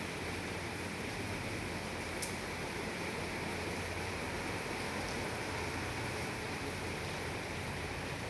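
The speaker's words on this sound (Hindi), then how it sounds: "बारिश हो रही है अभी" Rain falls in a steady, even hiss that stays at a constant moderate level throughout, with no talk.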